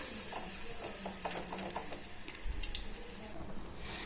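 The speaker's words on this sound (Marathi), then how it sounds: "गाजराचे काप फ्राय होत आहे" Carrot slices fry in hot oil with a continuous soft sizzle and hiss and a few small crackles and clinks, close up and fairly quiet, with no voices.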